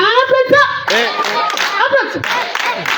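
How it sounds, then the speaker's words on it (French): An audience claps at a French gathering, producing a burst of close hand claps mixed with cheering voices and a child's tones, lasting a few seconds. "Applaudissons!"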